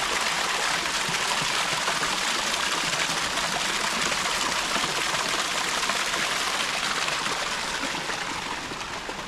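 Stream water rushing steadily over limestone in a cedar forest near Bishop Bay Hot Springs, Kitimat, BC; a loud, continuous broadband wash with no pauses, close by and alone.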